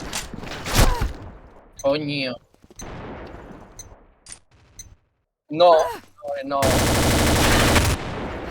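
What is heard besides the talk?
gunfire in video game Combat Arms Reloaded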